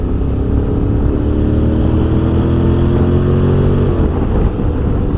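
A 2021 Honda X-ADV motorcycle engine runs steadily while riding, a loud continuous drone whose pitch slides down near the end as the revs drop.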